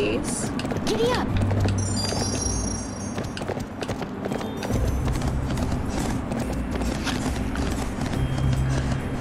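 Hooves clip-clop steadily as a horse moves along a trail in the video game Barbie Horse Adventures, layered with mechanical game sounds and chimes while someone talks over it.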